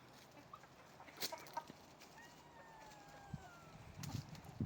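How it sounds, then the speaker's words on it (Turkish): Chickens cluck nearby in short, scattered bursts, with a rooster's call rising briefly in the middle over quiet background noise. "Horoz."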